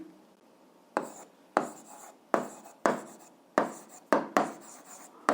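Pen scratching on paper in a school physics lesson about levers, a series of about eight short, close strokes with steady pauses between them, each stroke starting sharply and trailing off, with no talk.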